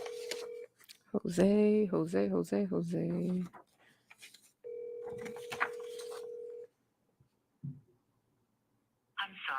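A telephone call is placed: a steady dial tone, a quick run of keypad tones, then a ringback tone before the line goes to voicemail, with a brief spoken word and a short automated voice.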